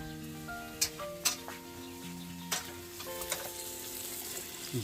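Chilies and garlic stir-frying in a hot wok, a steady close sizzle broken by several sharp clanks and scrapes of a spatula against the pan.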